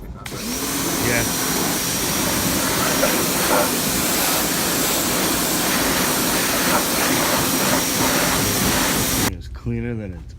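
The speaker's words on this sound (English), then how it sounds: "We're about to pressure wash her." A pressure washer sprays a stripped-down Suzuki Hayabusa motorcycle, a steady loud hiss of water jet running nearly continuously before cutting off abruptly near the end, with voices talking over it.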